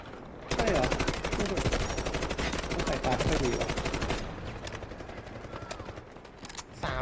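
Rapid bursts of automatic gunfire from the Delta Force video game crackle loudly, fast and continuous for several seconds before thinning into scattered shots, with players talking over the fighting.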